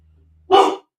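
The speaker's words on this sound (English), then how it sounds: "She's going to just be barking for a moment." A single sharp dog bark, close and fairly loud, after a quiet moment with a low hum.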